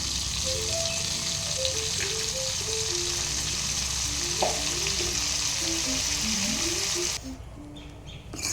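Half a spoon of cumin seeds hits a cube of butter and two spoons of hot oil for a thecha pav masala. A steady, close sizzle crackles on throughout, with a faint melody playing in the background.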